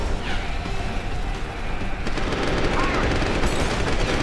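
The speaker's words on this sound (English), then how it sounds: "Because I shot a tank of poisonous gas or whatever that was right next to him." Continuous gunfire in the shooter game Deus Ex: Human Revolution, dense rattling shots under constant game noise, with a heavier burst in the second half.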